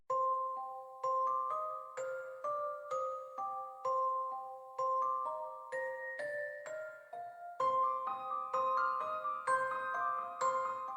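A video game soundtrack piece: bright, plucky melodic tune with bell-like tones in a light bouncing rhythm, steady and clear with no voices.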